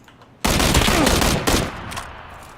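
Loud, close burst of sustained automatic gunfire from the video game PUBG, a dense rapid volley of about a second with a second shorter burst following, then trailing off.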